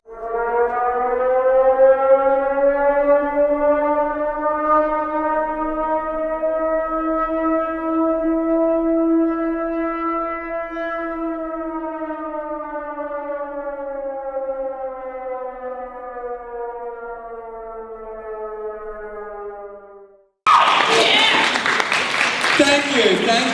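A long air raid siren wails steadily for about twenty seconds, its pitch slowly rising and falling, then cuts to applause.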